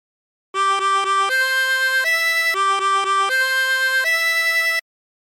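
Harmonica plays the La Cucaracha melody alone, loud and clear: quick repeated blown notes followed by longer held tones, the phrase heard twice in a steady rhythm over about four seconds.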